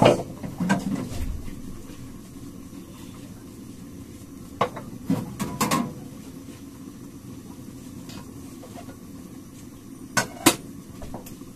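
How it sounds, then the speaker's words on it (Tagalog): Dishes and pots being washed in a home kitchen: scattered clinks and clanks of metal and crockery against a sink, with a low running background hum and quiet gaps between knocks. "dito naman tayo sa ating paghuhugas. Hugasan ko muna to para malinis."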